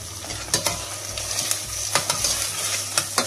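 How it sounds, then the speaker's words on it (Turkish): Sucuk sausage frying in a pan with onion and tomato paste for a bean stew, a steady close sizzle broken by sharp scrapes and clicks of stirring, with no talking. "Sucuğumu da atıyorum arkadaşlar içine."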